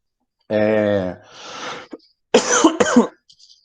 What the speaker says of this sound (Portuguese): com a tossinha chata, né?